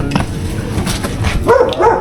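A dog barks a few times nearby, short sharp yaps over a muddy background noise.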